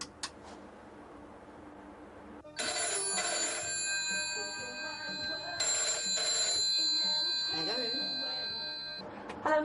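A telephone bell rings in repeated bursts, loud and close, after a quieter stretch. A woman is calling a friend from a public phone box at Christmas, and some low background sound runs underneath.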